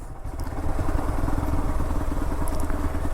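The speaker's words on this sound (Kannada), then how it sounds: "ಸ್ಪೀಡಲ್ಲಿ ಹೋದ್ರೆ ಎಳ್ದಾಡುತ್ತೆ ಬೈಕ್" A motorcycle rumbles steadily over a rough off-road track near the Yedakumeri railway tunnel, its engine drone close and continuous with faint clatter from the bumpy ground.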